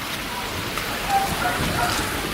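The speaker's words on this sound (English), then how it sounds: "Armaan, it's raining." Steady rain falls at an animal resort as a soft, even hiss with faint scattered drops. The shower is continuous and moderately close, and no one speaks.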